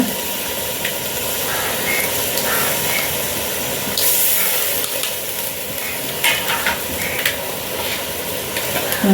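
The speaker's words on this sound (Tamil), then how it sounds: "நல்லா மிக்ஸ் பண்ணிக்கோங்க" Chicken with curd is being stirred into biryani masala in a hot pan, giving a steady sizzle and hiss with occasional scraping stirs, all close by.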